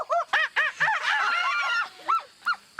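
A person imitates a bird call with a run of loud, honking, goose-like hoots in quick bursts, near and alone with no talk.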